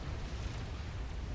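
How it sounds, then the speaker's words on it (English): Missile explosions in the strategy video game Supreme Commander, a dense continuous rumble of booms and bursts running steadily through the short stretch with no pauses. "Those missiles? Those are missiles."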